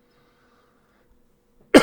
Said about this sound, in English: Sorry, cough right in the microphone.